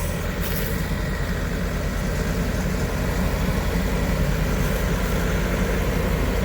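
A four-wheel drive vehicle's engine runs steadily in a field, a continuous low rumble held at an even level throughout, with no talk.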